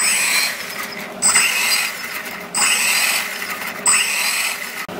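A Feiyue FY06 6x6 Desert Eagle rock racer RC truck running, its electric motor whirring up in several short bursts of rising whine separated by quieter gaps.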